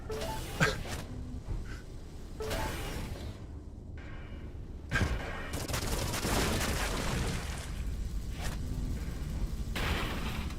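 Spaceship weapons in the video game Everspace 2 fire in dense bursts of rapid shots and blasts, loud and near, with a brief lull in the middle and sustained barrages afterward.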